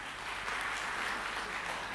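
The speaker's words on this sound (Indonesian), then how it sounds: "Tepuk tangan saudara." A church congregation at a Sunday service claps together: a brief, even burst of dense applause at moderate volume with no pauses.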